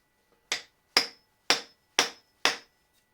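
A hammer strikes the handle of a handmade tool to drive its blade in, five sharp, close wooden knocks evenly spaced about half a second apart, with quiet between blows and no talk.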